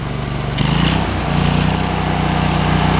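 A Kohler CH23s engine on a welder revs up to high idle, a loud, steady mechanical drone that climbs in pitch partway through and then holds evenly.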